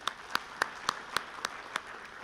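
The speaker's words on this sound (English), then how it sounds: "let's give a big round of applause" Slow, evenly spaced claps ring out at a labour and employment summit in Zimbabwe, about eight distinct hand claps in a steady rhythm, faint and somewhat distant against a quiet room.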